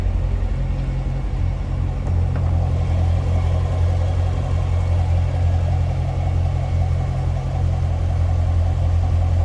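The 6.2-liter engine of a 2015 Chevrolet Corvette 3LT Z51 idles close by with a steady, deep, loping rumble throughout and no voices.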